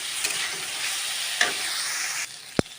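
Boiled potatoes fry in a pan for Bengali-style poha pulao, giving a steady close sizzle with stirring scrapes, a sharp clink near the end, then a quieter sizzle.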